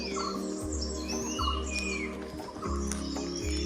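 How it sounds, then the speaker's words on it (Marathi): Several birds chirp and call in quick, overlapping bursts, fairly close, in the forest at Vasota fort, over a low, steady background hum. "हे पक्ष्यांचे आवाज ऐकून अगदीच मंत्रमुग्ध झाल्यासारखे वाटत आहे"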